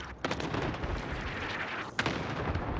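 Gunfire and explosive blasts in the Call of Duty: Modern Warfare video game, a dense rumbling barrage with a few sharp reports standing out, fairly faint and steady.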